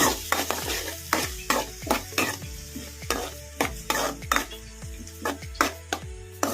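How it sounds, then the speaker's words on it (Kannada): Chopped onions fry in hot oil in a pan over a medium flame while a spoon stirs them in steady, rhythmic strokes. Each pass brings a sharp scrape and clatter over a constant close sizzle. "ಮೀಡಿಯಮ್ ಫ್ಲೇಮಲ್ಲಿ ಇಟ್ಕೊಂಡು ಫ್ರೈ ಮಾಡ್ಕೊಂಬಿಡೋಣ ಉಳ್ಳಾಗಡ್ಡಿನ ಈ ಥರ ಕಲಿಸ್ಕೊಂತಲೇ ಇರಬೇಕು"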